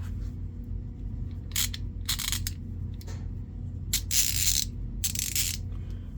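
Several quick bursts of clicking from a cheap ratchet in a three-piece set, close and crisp, separated by short pauses over a low background hum.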